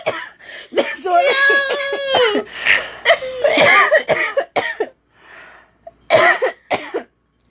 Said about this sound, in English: you got me over here coughing